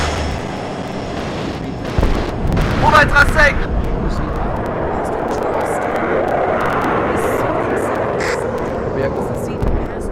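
Aircraft engine running in a video game, a loud sustained roar with bursts of gunfire and explosion-like noise on top, while a voice speaks briefly over it.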